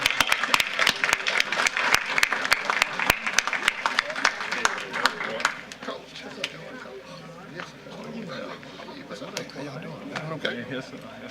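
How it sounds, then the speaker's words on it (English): A school board meeting audience gives Glen Oaks High a big round of applause: loud, dense clapping for about five seconds, then it thins and fades under murmured voices and talk. "Let's give them a big round of applause."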